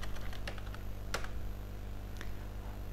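Keystrokes of a terminal command typed on a computer keyboard, a quick irregular run of light clicks with a few sharper taps, close and fairly quiet over a steady low hum.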